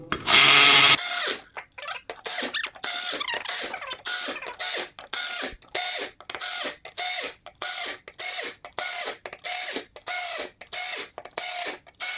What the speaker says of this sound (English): I'm using a Milwaukee fuel ratchet.